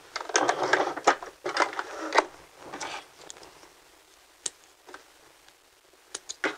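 Sewing machine back stitching and sewing a skirt seam in matching thread, short bursts of quick ticking stitches followed by pauses and a few isolated clicks, close and fairly quiet.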